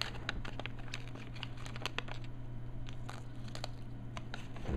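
Rapid crinkly snipping and rustling as scissors cut open a plastic package of Gogo's Crazy Bones toys, close up and steady, with a low hum underneath and no talking.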